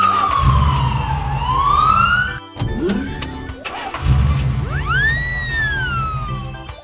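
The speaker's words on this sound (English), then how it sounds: "Police car." A police siren wails up and down over a rumbling engine, close and loud, with a brief break before the sweeping tone returns.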